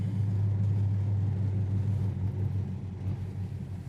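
A 1970 Chevrolet El Camino with a big-block engine rolls along while braking, its low steady rumble filling the cabin and easing slightly toward the end, with no talking.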